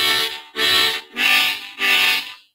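A harmonica imitates a train with four rhythmic, evenly spaced breathy chords in a chugging pattern, loud and close, with no talking.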